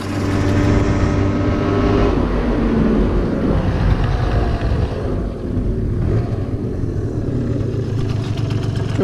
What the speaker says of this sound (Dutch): Ik heb gewoon een prima lopende scooter.